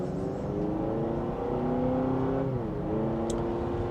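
2026 Honda CR-V TrailSport hybrid accelerating in sport mode, a smooth steady engine hum with rising whine, moderately quiet and heard from inside the cabin.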